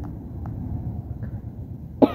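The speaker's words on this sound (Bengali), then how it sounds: "কথার মাঝে আবার কাশি আসতেছে আমার।" A sick man coughs once, a short sharp burst at the very end after a stretch of quiet low room noise, close to the microphone.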